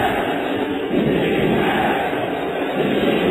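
A basketball arena crowd in the Philippines–Japan game keeps up a loud, continuous rumble of voices with rhythmic surges, as if chanting for defense, filling the whole stretch with no clear individual words.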